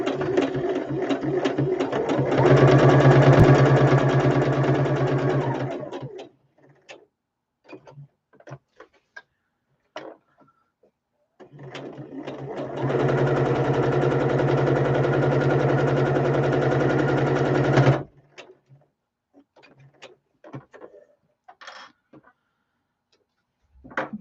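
A sewing machine runs in two long stitching bursts, each several seconds, loud and close, with quieter clicks and handling noises in the gaps between them.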